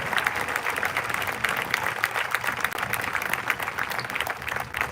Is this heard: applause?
yes